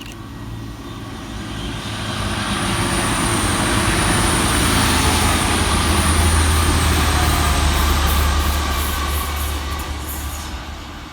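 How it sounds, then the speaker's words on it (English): A pair of TransPennine Express class 185 diesel multiple units pass through, a low engine rumble and rolling rail noise swelling to a sustained peak in the middle, then easing off. "passing through for TransPennine Express is 185117 and 185119"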